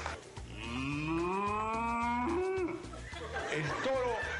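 A performer on a television variety show imitates a cow in heat with long, wavering moo calls, loud and close over a thumping low background rhythm, then audience reaction swells at the end.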